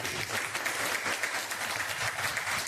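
Dense, steady applause from an audience at a motivational wellness and networking seminar, filling the clip evenly from start to end with no voices on top.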